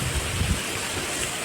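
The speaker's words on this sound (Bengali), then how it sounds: "এখন ওয়েদারটা এইরকম দেখছো, বৃষ্টি হচ্ছে হালকা হালকা" Light rain falls on a cool, stormy morning, a steady soft wash of patter that holds at an even, moderate level through the whole moment, with no voices over it.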